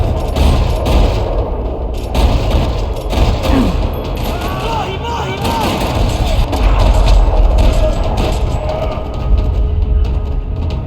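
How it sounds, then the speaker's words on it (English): In the video game Max Payne 3, sustained bursts of gunfire rattle continuously across a parking lot amid a dense, loud soundscape, with voices and mechanical noise mixed underneath. "Another parking lot rattling with gunfire."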